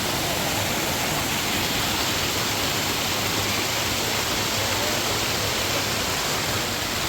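Ladai waterfall spilling down a series of rock steps, a dense, unbroken roar of falling water that stays loud and even throughout.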